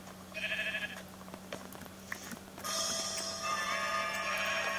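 Sheep bleat in the video game Minecraft, with short repeated bleats over a steady low game hum, then a brighter, denser stretch of game sound in the second half; no one speaks.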